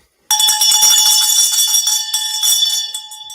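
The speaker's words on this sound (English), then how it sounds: "We ring our bell for our victorious test takers." A bell rung on a live stream to celebrate successful exam takers gives one bright metallic strike with sustained ringing overtones, loud and alone, slowly fading over about three seconds.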